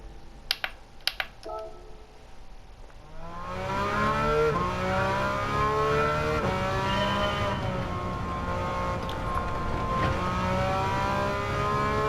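Gran Turismo 7 race car engine, running with a limited-slip differential setup, rising under throttle from about three seconds in, sustained and loud with harmonics sweeping upward, after a few sharp clicks over near-quiet.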